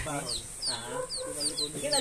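Pet hens and a rooster at a home in Batangas cluck close by, a busy overlapping run of short calls and chirps with a person's voice faintly underneath.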